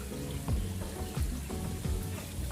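Small stream of flowing water in El Llano de Pedro Garcia, Santiago, a soft continuous trickle and gurgle with faint repeated splashes, close and quiet.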